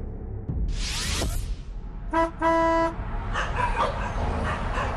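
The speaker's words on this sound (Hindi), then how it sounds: "जरूरी है कि हॉर्न बजाया जाए" A car horn gives two short toots close by, following a brief burst of noise, with traffic rumbling in the background.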